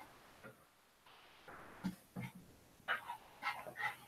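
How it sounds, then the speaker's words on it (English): Several dogs bark and yip in the distance, faint bursts growing more frequent toward the end, heard indoors with low background noise. "Oh my god, these dogs are going insane."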